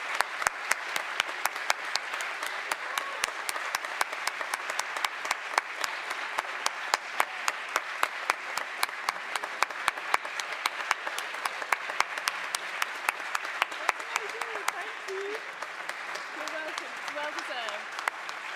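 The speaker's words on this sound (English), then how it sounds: "a final round of applause for all of our nominees" An awards-evening audience applauds a prize winner with steady, dense clapping that runs unbroken for nearly twenty seconds, at a moderate level, with a few faint voices rising near the end.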